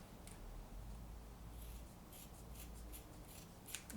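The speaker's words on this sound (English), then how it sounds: "Any bits at the end, any bits of tape, I just trim off." Scissors trimming tape off boxing gel pads, faint quick snips and clicks scattered over a quiet background hiss, close and soft, with no speech.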